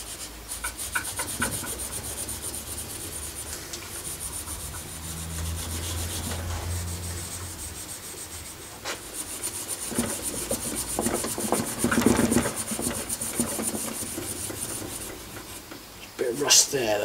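Steel wool scrubbing rust off metal in a workshop, a continuous close rasping and rubbing that shifts in intensity, with a faint voice at times under the scouring.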